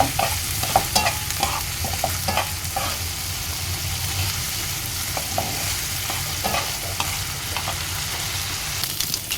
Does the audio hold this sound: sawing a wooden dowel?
no